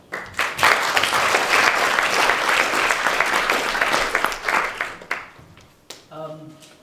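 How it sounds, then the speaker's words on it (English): Applause from a TEDx audience fills the room, a dense steady clatter of many hands for about five seconds before it quickly fades and a voice begins speaking. "So let's give a round of applause."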